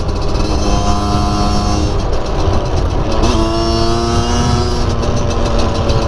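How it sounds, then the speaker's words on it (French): A small 50cc motorcycle engine runs steadily at high revs on a ride near Lac du Bourget, a loud continuous drone with rising and falling harmonic tones, up close with no talk. "c'est une petite 50, alors t'es toujours en régime"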